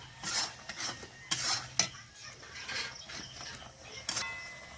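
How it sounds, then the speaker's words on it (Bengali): Roasted semolina stirred into boiling sugar syrup for mango laddu, giving several sharp spoon-and-pan scrapes and clinks at irregular intervals over a faint background hiss, close by and with no talking. "এর মধ্যে আমি ভেজে রাখা সুজি এবার দিয়ে দেবো দেখুন এবার নেড়ে ছেড়ে নেবো"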